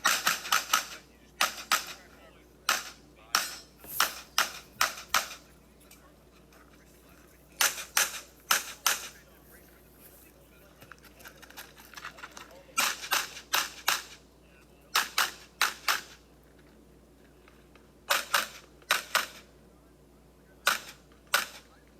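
Pistol fire on a Factory Gun Nationals shooting stage, sharp shots in quick strings of two to four separated by pauses, loud and close, with faint talk beneath.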